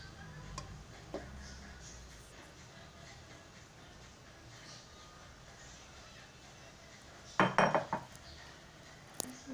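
Quiet kitchen clinks and taps, then a louder scraping clatter as butter and condensed milk are added to a metal pan near the end, for a chocolate cake.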